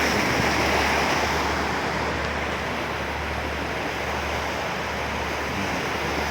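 Continuous roar of ocean surf, loud and steady, with wind buffeting the microphone and no voices.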